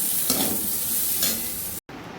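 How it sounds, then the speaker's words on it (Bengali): Carrots sizzle and crackle steadily as they fry in a wok, with a stirring scrape partway through and a brief moment of silence near the end. "আর এই হলো কড়াতে গাজর আর ভাজা।"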